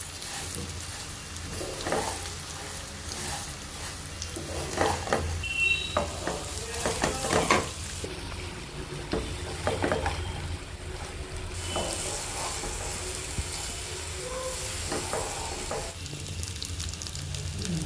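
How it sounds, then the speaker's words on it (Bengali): Vermicelli sizzles with vegetables in a hot wok, with a continuous frying hiss and repeated scraping and clinking of a spatula stirring it. "এবার হালকা করে মা সিমুইটা ভেজে নেবে।"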